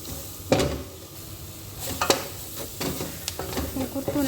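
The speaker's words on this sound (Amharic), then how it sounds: "ሽንኩርቱን እንደዚህ ጥብስ አደርገውና የተወሰነ ሳይበዛ ማለት ነው።" Onions frying in a pot for Arabian mandi rice, with a steady close sizzle broken by several sharp stirring scrapes and clinks of a utensil against the pot.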